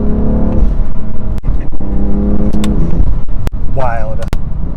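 A BMW F80 M3 Competition with a DCT gearbox pulls hard with a steady, droning engine note that rises slightly, heard from inside the car beneath ongoing conversation.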